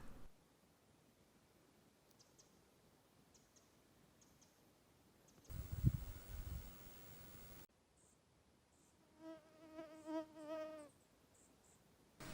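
Faint high-pitched whining of mosquitoes buzzing near the ear, coming and going, with a brief rustle in between; no talking.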